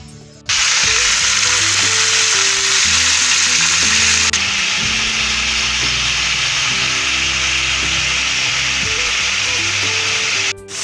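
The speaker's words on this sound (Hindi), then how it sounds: "अब इसी ऑयल में मैं चिकन विंग्स ऐड कर लेती हूँ।" Chicken wings dropped into hot oil already used for frying garlic sizzle loudly and steadily for about ten seconds, a constant close bubbling hiss with faint scraping underneath and no talk.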